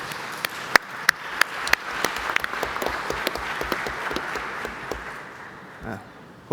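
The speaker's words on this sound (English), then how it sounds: "judging by the round of applause" Warm applause from a festival audience in a large hall after a film screening, a steady wash of many hands with sharp individual claps standing out, fading toward the end.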